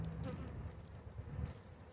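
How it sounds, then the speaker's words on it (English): Honey bees buzz steadily inside an opened beehive, a dense, close, continuous hum of many insects at moderate volume with no talk over it. "Ooh, quite a few bees in here."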